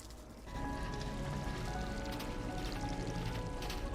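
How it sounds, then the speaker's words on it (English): Steady rain or running water hisses continuously, starting abruptly after a brief quiet moment and then holding a broad, even wash of splashing noise throughout. "I hear running water. Maybe it's just the rain."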